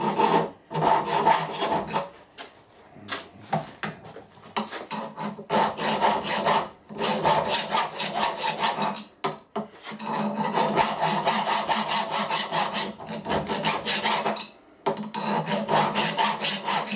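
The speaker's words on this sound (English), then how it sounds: "The file's just slipping over the top of the weld material." A hand file scrapes back and forth over weld material on welded metal, with steady, close rasping strokes broken by a few short pauses.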